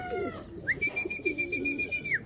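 Racing pigeons coo softly near their loft as they come back in. A bright whistle-like tone is held for over a second among the low calls.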